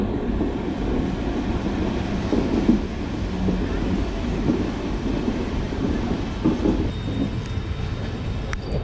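The Kamakhya Express rolls along the rails with a steady, loud rumble and rattle of coaches, faint clickety-clack and wind buffeting throughout, and a few high squeals near the end.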